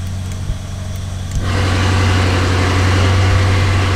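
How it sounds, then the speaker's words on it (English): Lamborghini engine rumbling through its exhaust, a deep steady idle that swells louder about halfway through and holds, close and continuous with no talking. "So it has also options, as you can see, of the exhaust."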